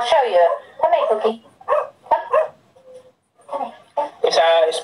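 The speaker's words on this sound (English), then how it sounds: "That's my dog, sorry." A 12-year-old Spanish cocker spaniel barks indoors in a string of short, close, loud yips and barks with brief pauses, mixed with human voices.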